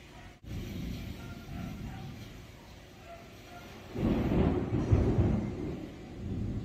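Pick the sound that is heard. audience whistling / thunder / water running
thunder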